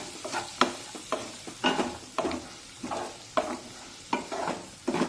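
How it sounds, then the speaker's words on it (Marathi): Finely chopped tomato frying in a spiced tempering for vermicelli upma, with close, rhythmic scrapes and stirring strokes over a soft sizzle, repeating roughly every half second. "बारीक चिरलेला टोमॅटो टाकूया आणि टोमॅटोसुद्धा यामध्ये छान मऊ शिजून घेऊया"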